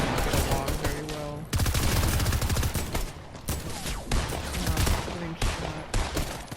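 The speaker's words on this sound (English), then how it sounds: "Getting shot." Dense, loud bursts of gunfire in a video game, rapid volleys packed together with brief gaps between them.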